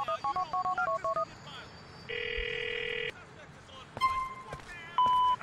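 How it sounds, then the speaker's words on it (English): Phone keypad dialing in GTA IV, a quick series of short electronic tones, followed by a steady tone and then a few ringing beeps, moderately quiet, with game sounds in the background. "Okay, I need to phone Vlad."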